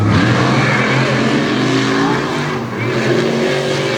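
Monster truck engines roar off the starting line at a race in Lima, Ohio, one a Chevy, a loud continuous revving blast that holds steady throughout with a brief dip near the end.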